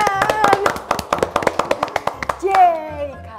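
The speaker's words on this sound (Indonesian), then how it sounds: "tepuk tangan" A small group of children clapping briefly in an educational quiz show, a quick run of sharp close claps, followed by a cheerful voice exclaiming.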